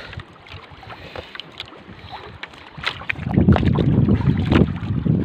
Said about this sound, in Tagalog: Malakas ang alon ngayon.